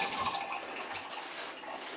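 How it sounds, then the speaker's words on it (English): Water pours steadily from a tap into a cooking pot for egg drop soup, a close, continuous splashing rush that eases slightly after the first moments. "I need more liquid, okay? So I add more water and bring it to a boil"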